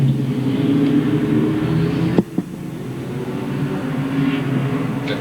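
Late model race cars roaring around Louisville Motor Speedway in 1997, a steady, loud engine drone from the pack with one sharp knock midway.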